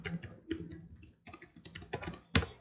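Computer keyboard typing while a business tax ID (CNPJ) is entered into a form field: a burst of clustered keystrokes, close and fairly clear, with brief pauses between groups and a final sharper key press.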